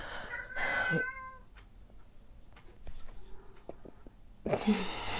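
A cat meows a couple of times, at the start and again near the end, with faint ticks and small rustles in a quiet room between.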